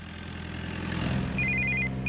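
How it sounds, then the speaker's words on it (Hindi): An electronic telephone rings in short repeated bursts, rising over a low rumbling engine-like background. "बाजू में लगा फोन आ रहा है"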